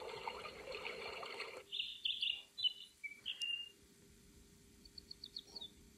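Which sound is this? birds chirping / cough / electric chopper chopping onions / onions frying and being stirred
birds chirping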